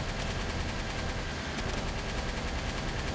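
Gunfire in Palworld, a dense continuous burst of rapid shots at steady loudness, with no talking over it.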